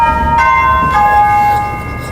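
A doorbell rings indoors at a dog-training ranch, its two-tone chime sounding loudly and then ringing out and slowly fading over about two seconds.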